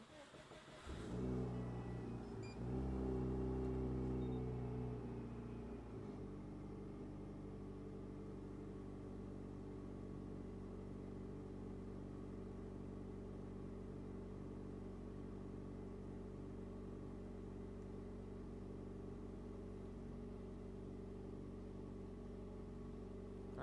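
A 2005 Subaru STi with a BorgWarner turbo and Link G4X engine management, restarted on a dyno after running: brief cranking catches into a loud revving burst, then settles into a steady, droning idle.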